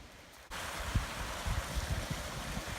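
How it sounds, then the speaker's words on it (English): Small waterfall splashing beside a mountain trail on Mount Rosa, a steady broadband rush of falling water starting abruptly and continuing close and fairly loud, with a few low thumps, alone without voices. "It's a nice little waterfall on the trail, or next to the trail"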